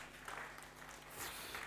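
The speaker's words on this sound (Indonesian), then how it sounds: "Tepuk tangan dulu." Audience applause at an Indonesian talk or sermon session, a faint, steady patter of many hands clapping at a distance for under two seconds, with no voices over it.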